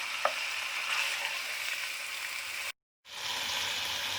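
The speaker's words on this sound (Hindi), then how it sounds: "तेज़ आंच पर 4 से 5 मिनट मैं चिकन को फ्राई करूँगी।" Chicken fries on high heat for a white chicken korma, producing a steady, dense sizzle. The sizzle cuts out briefly and then resumes at the same level.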